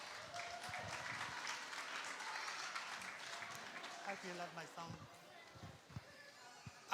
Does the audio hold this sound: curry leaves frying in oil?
no